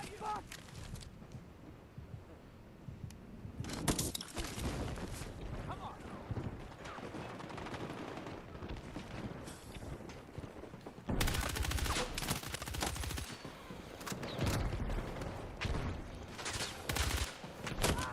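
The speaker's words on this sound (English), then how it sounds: "There's someone shooting there." Rapid gunfire crackles through a Battlefield 6 firefight in sustained bursts, near and far, with a loud surge of shooting late on, under steady game ambience and some speech.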